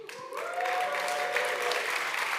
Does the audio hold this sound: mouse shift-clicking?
no